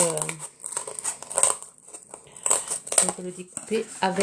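Scissors snipping through paper or card while making a Christmas craft, with short crinkling cuts heard close up between spoken words.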